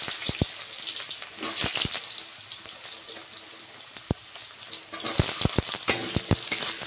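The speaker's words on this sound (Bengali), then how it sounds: "এবার পাঁচফোড়ন দিয়ে দিলাম।" Panch phoron spices dropped into hot oil give a steady crackling sizzle, with sharp taps and clinks of a utensil against the pan coming in bursts near the start and end, and no talking.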